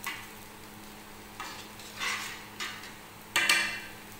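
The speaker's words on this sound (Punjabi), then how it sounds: "ਚੌਲ ਪਾ ਦਿੱਤੇ ਨੇ ਉਹਦੇ ਵਿੱਚ ਆਪਾਂ, ਖੰਡ ਪਾ ਦਿੱਤੀ, ਘਿਓ ਪਾਣੀ ਸਾਰਾ ਕੁਛ ਪਾ ਦਿੱਤਾ ਜੀ" Sweet rice cooking in a pot with sugar, ghee, water and yellow colouring, stirred in a few spaced, scraping strokes of a spoon against the pot, close and fairly quiet, with no talk.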